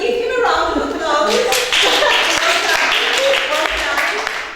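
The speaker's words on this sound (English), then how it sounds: "Let's give him a round of applause." A classroom or workshop audience gives a short round of applause for a presenter, with crisp hand claps near the front, while voices speak and cheer over the clapping.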